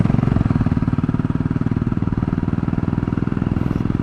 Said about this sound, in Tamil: அதுவும் நம்ம ஃபேவரட் பைக்கு